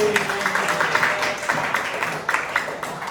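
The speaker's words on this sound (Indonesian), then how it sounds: "Tepuk tangan dulu." A classroom of students applauds together in a dense, continuous patter of hand claps with a few stronger bursts, moderately loud and close.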